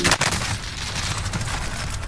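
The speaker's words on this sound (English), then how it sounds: "Getting shot everywhere." Call of Duty Warzone gameplay carries dense, rapid gunfire, with bursts of overlapping shots cracking continuously and fairly loud throughout the short stretch.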